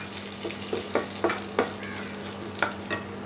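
Mustard seeds and cumin sputter and fry in hot oil, with a soft continuous sizzle broken by scattered sharp pops and crackles, close and fairly quiet.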